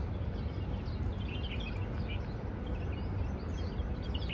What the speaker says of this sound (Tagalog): Nadidinig nyo ba guys yung huni ng mga ibon?